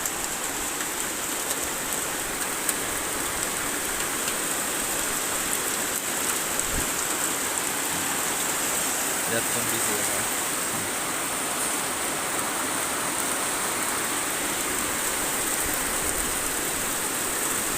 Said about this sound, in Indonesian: Kembali lagi angin kencang disertai dengan hujan pemirsa.